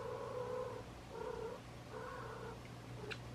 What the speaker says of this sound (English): If you hear my cat, she's having a fit.